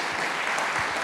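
A church congregation at a Sunday service claps together in a loud, close, even burst of applause.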